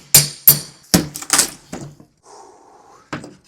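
A hammer pries trim off against a wood piece in an under-stair closet, with a series of sharp knocks and thunks, a brief scraping pull, then one more close knock.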